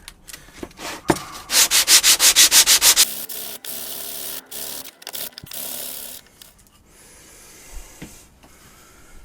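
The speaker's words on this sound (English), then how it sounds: "I put some 240 grit onto my sanding block" A run of about nine rhythmic back-and-forth strokes of a 240-grit sanding block on a guitar fretboard up close, followed by scattered rubbing, taps and handling noises.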